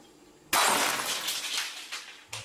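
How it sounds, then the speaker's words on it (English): Glass breaking in a kitchen during a Ouija session: a sudden loud shatter with a spray of tinkling shards that fades, then a second smaller crash. "it proceeded to break a glass"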